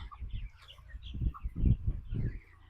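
Soft clucking and murmuring from 25-day-old chickens nearby in a coop, a few low calls rising and falling over a couple of seconds.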